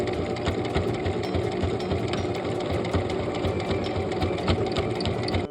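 A sewing machine stitching small plush keychain pieces together runs steadily, with a fast, even mechanical rattle close up and no pauses until a brief stop at the end.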